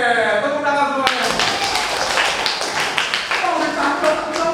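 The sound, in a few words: students clapping hands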